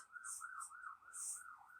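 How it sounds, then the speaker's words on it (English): An emergency vehicle siren wails outside in a rising and falling pattern, faint and distant, heard alone. "Can you hear the siren?"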